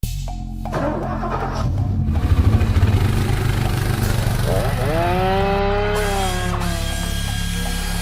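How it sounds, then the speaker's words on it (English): Woodland Mills HM126 sawmill with a 14 horsepower Kohler engine, running loud and close with a steady idle drone, rising to a higher whine partway through. "this is a Woodland Mills HM126 with the 14 horsepower Kohler motor"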